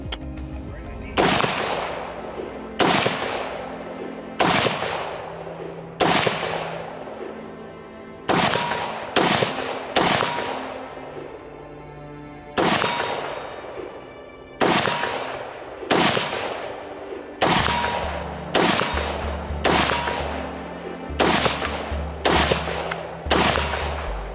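Dark Storm DS15 rifle and other firearms in 5.56 and 9mm at an outdoor range, a long series of loud, sharp single shots and quick doubles with echoing decays, spaced irregularly with brief pauses between strings.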